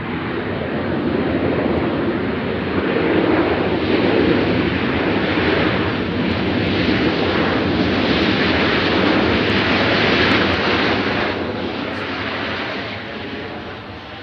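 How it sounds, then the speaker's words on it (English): A Southwest Airlines plane lands at Nashville International Airport, its jet engines producing a loud, broad roar that swells and holds for several seconds before easing off slightly, with wind buffeting the microphone. "So we got Southwest landing here."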